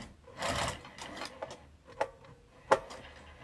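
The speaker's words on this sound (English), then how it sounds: "This one I'm gonna start at the bottom and sew up." A sewing machine stitches a vinyl bag strap connector, running in short bursts with a few sharp clicking thumps between, close and moderately loud with no speech.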